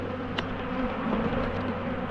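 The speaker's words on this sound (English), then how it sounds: "But all the bees ain't happy." Agitated honeybees buzz loudly and continuously right after a hive super is pulled off, a dense close swarm drone with individual bees zipping past.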